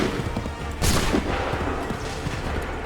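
Muskets fire in a volley in the video game Assassin's Creed 3, a single loud crackling burst of overlapping shots that fades into a rumbling battlefield background.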